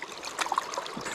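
Fast-flowing trout river, with water trickling and gurgling nearby in a faint, steady wash.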